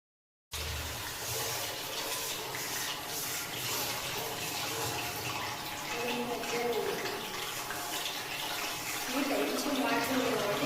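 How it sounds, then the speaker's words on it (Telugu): Pieces of aloe vera carrying a little water crackle and sizzle steadily in hot oil in a home kitchen, a continuous close spattering hiss that runs without pause. "కొంచెం వాటర్ కాబట్టి చిట్టపట్ట సౌండ్ వస్తుంది."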